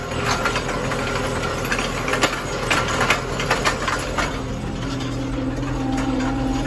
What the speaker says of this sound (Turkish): Traktör tırmanıyor.